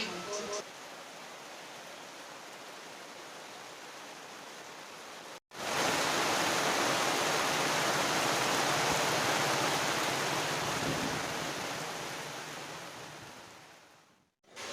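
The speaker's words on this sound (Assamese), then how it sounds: "আৰু এবাৰ আপোনাক দেখুৱাই দিছোঁ কেনেকুৱা বৰষুণ দি আছে" Heavy rain pours down in a dense, steady roaring hiss, loud and close, running on without a break apart from two brief dropouts in the sound.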